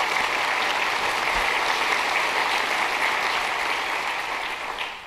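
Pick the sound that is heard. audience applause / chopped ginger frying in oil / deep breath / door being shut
audience applause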